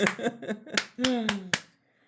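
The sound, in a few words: three hand claps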